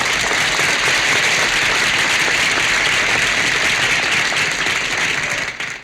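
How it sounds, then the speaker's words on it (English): Studio audience applauding the guests on a Smothers Brothers comedy variety show: loud, dense, sustained clapping that fills the whole stretch, then starts to thin out at the very end. "Let's give them a hand."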